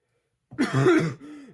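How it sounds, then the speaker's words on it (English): A single harsh throat-clearing cough, close and loud, followed by a brief, lower grunt as it trails off. "Can I stop coughing?"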